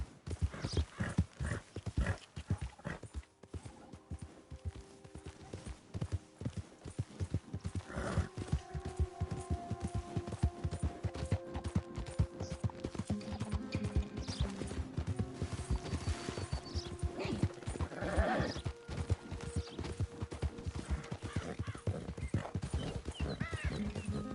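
Steady hoof clip-clop of a ridden horse in a game, a continuous close rhythmic clatter running throughout, with a brief whinny and faint background sounds.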